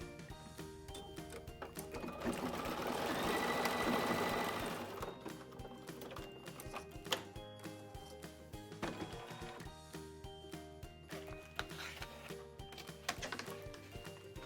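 An embroidery machine stitching a design onto a tea towel held with tearaway tape, a steady fast mechanical whir and rhythmic needle clatter that swells louder early on, then continues with small ticks and shifts as the stitching pattern changes.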